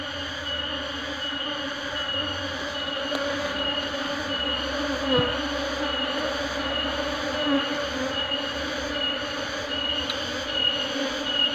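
Asian honey bees (Apis cerana) swarm around a hive box, a steady, dense buzzing drone that hums on without a break at moderate distance, with no speech.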